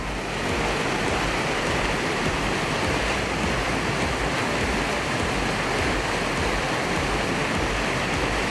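A cool mountain valley stream at a Korean recreation forest rushes and splashes in a dense, steady roar of water that stays loud and constant throughout.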